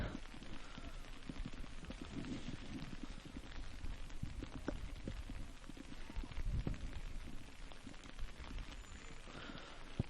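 Steady rain falling during an outdoor men's college soccer game between Brescia and Asbury, a constant soft hiss that washes over a faint, distant crowd.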